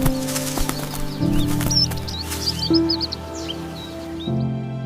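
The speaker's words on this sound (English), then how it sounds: "You hear birds outside. They are singing in the trees." Birds chirp outdoors in trees with faint, scattered high calls, heard softly beneath a sustained musical drone.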